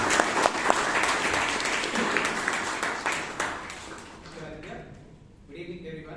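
At a Toastmasters meeting in Bangalore, a room claps in a dense, lively round of applause that tapers off after about four seconds, then a voice starts speaking.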